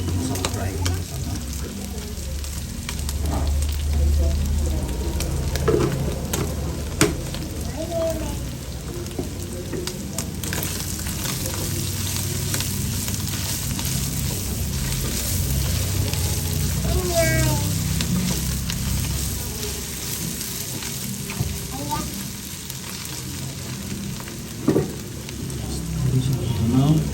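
Buffalo meat frying with meat masala in a pan, a steady low sizzle with stirring and scraping throughout, fairly close and continuous, with a few louder knocks.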